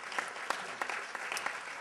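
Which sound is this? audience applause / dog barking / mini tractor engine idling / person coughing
audience applause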